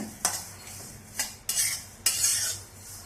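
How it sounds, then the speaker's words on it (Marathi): Fenugreek and fennel seeds dry-roasting in a pan are stirred with a metal spoon, giving a few sharp scrapes and rattling strokes against the pan, close and clear, with no voices. "आता मेथी दाणे घालूया आणि त्याच्यातच बडीशेप सुद्धा घालूया आणि चांगलं परतवूया."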